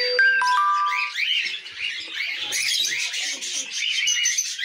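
Zebra finches chirping in a nest, several quick high tweets and calls overlapping, fairly close, with a few tonal ringing notes near the start.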